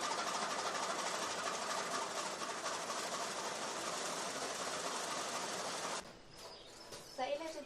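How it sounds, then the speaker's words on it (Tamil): A machine chopping green fodder into small pieces for silage runs with a steady, dense mechanical whir for about six seconds, then stops abruptly, leaving quieter clattering sounds. "இந்த மாதிரி பொடி சின்னதாக 1/2 இன்ச்சு அளவுக்கு மிஷினில் கொடுத்து நம்ம வெட்டி வச்சுக்கணும்"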